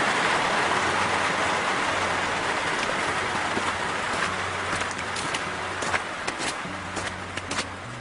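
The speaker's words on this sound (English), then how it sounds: "He was headed home when he heard the sound of rain." Steady rain pours down with a broad hiss, scattered louder drips and taps standing out near the end, over a low background rumble.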